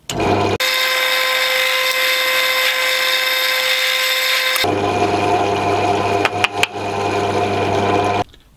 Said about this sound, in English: I've installed a 3mm drill bit, of which I'm going to now drill out the holes to secure it to the wood.